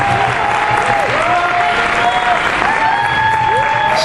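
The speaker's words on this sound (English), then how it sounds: "So please give Nima another round of applause." A crowd at an Iranian students' Yalda Night celebration applauds steadily throughout, a dense wash of clapping with a whistle-like tone and faint voices threaded through it.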